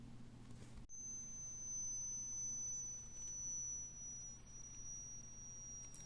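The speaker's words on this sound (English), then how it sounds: "Why would you even build such a high pitched noise into this device?" A dying Catcha Beast device gives a piercing high-pitched electronic tone. It starts after a short click and holds steady and loud for about five seconds over a low background hum.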